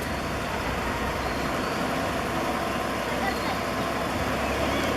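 A red MSRTC ST bus pulls into a Konkan village, its engine and road noise a steady, loud, broadband rumble that stays constant throughout.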